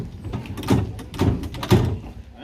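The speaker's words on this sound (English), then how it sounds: "pull that round and you'll feel it click into each one" The controller handle on a heritage tram at the Heaton Park Tramway is pulled round through its power notches, giving three distinct, evenly spaced clunking clicks close by.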